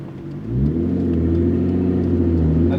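An R32 Skyline GTR with a straight-piped Tomei Expreme Ti titanium exhaust revs up from a low rumble into a loud, sustained, rising drone, close and alone.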